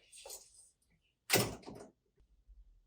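Dual sliding glass door on a 6 ft refrigerated bakery display case, a soft rolling slide followed by a firm thunk as the door closes, close up in a quiet room.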